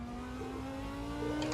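A GT3 race car engine in the Assetto Corsa racing game drones at a steady high pitch, rising slightly as it revs, with a faint higher whine near the end.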